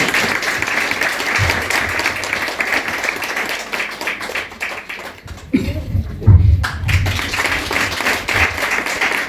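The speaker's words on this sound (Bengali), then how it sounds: "বাবা, আমরা হাততালি দেব।" Wedding guests clap together in a sustained burst of applause that fades briefly and picks up again, with a few louder taps and thumps nearby, indoors among a crowd.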